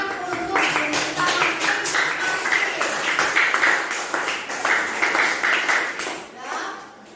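Classroom applause, a group of students clapping in a dense, lively patter for several seconds that fades out at the end, with voices mixed in.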